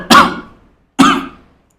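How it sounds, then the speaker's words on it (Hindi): Two sharp, loud coughs about a second apart, each quickly trailing off into silence, from a nearby person in a classroom lecture. "सॉरी, आज कुछ ज्यादा ही चल रही है खांसी"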